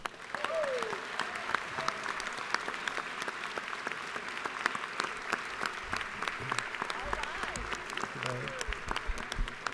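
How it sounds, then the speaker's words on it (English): Steady applause from a large audience in the Georgia House of Representatives chamber, many hands clapping continuously throughout with no break. "Would you please give them a round of applause?"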